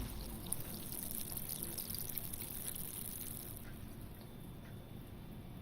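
Sparkling water is dumped into a dirty glass, a steady close pouring hiss with faint fizzing crackle throughout, no voices.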